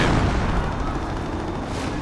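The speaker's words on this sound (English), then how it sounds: "But look at those explosions!" Explosions in a World War II strategy video game, a dense rumbling roar of blasts and booms that stays loud and continuous.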